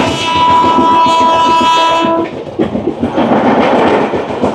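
Sealdah–Haldibari Darjeeling Mail passing close by, a long, loud two-tone horn blast over heavy rolling wheel and carriage rumble, then the rushing, rattling noise of coaches continuing past after the horn stops.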